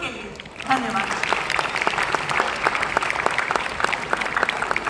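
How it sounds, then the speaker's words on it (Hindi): Audience applause at a children's school drama performance, a steady burst of many hands clapping that starts abruptly under a moment of talk and keeps going loud and dense to the end. "एक बार तालियां खुद के लिए।"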